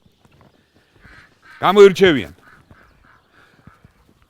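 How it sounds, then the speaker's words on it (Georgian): Muscovy ducks on a farm give a couple of close, loud, raspy calls in quick succession, set against a quiet background with faint scattered clicks and a voice speaking. "ეხლა განახებთ მუსკოვი დაკ, ესე ქვია ინდური ჯიშის იხვები."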